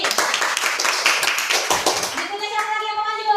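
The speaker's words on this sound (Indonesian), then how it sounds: "Oke, tepuk tangan untuk Astrid." Classroom clapping for a student, a burst of many hands that fades after a couple of seconds as a voice begins speaking over the room.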